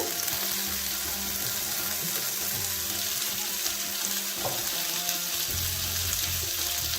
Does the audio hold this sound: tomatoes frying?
yes